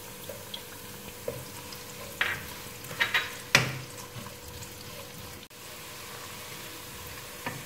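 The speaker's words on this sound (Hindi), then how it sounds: "लहसुन को सौते करने के बाद इसमें 1 प्याज चॉप हुई डाल देंगे।" Chopped onion sautéing with garlic in a pan for chicken chow mein gives a soft, steady sizzle close by, with a few brief stirring scrapes and clinks and no talk.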